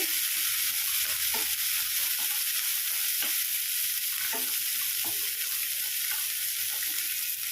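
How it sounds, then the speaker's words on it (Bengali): A handful of raisins and cashews fry in a pan over a medium flame, giving a steady, close sizzle with a few soft stirring clicks and no voices. "কিশমিশ দিয়ে কয়েক সেকেন্ড এটা ভেজে নেব"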